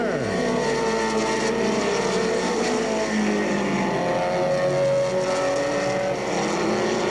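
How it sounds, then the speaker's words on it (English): Stock cars race around an oval track, with engines roaring loudly and several overlapping motors sweeping up and down in pitch as the pack runs through the turns. "Jack McNutt and Rick Ferguson are tied for third in the third turn"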